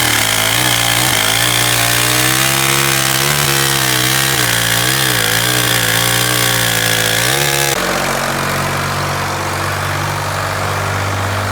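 A chainsaw cuts into a cedar log being hollowed for a beehive, its engine loud and close with a steady, wavering bogging tone under load, then shifting abruptly to a rougher, higher-pitched run.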